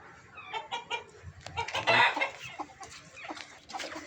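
A busy flock of black-and-white spotted and pure white parent-stock chickens clucks and murmurs nearby, with overlapping calls rising to a louder burst midway before settling into scattered clucks.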